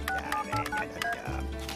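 A telephone number being dialed in a Robotboy cartoon, a quick series of distinct touch-tone beeps spaced evenly, clear and close, with no talking over them.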